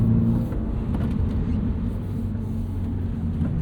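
Subaru BRZ on Bridgestone Potenza Sport AS tires cornering hard on a wet track, a steady loud engine drone and road rumble running throughout with no letup.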